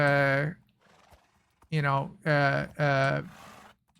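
Horses neigh in Minecraft, a run of loud, tonal whinnies: one call, a pause, then three close calls in a row.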